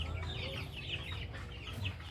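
A chicken clucks repeatedly in short, soft bursts close by inside a coop, over a low steady background hum.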